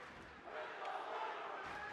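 A crowd at a boys varsity high school hockey game between Abington and Winthrop swells into a sustained cheering roar after a hard body check, a broad noisy wash that builds midway and holds.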